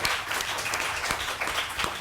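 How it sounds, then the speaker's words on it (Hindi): A studio audience on a morning television show gives dense, steady applause, close and continuous for about two seconds with no talking. "और बजाओ भैया, तालियां बजाओ।"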